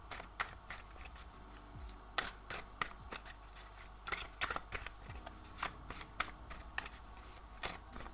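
Tarot cards shuffled and riffled in a steady run of crisp, close flicking bursts, each snap sharp against a quiet background.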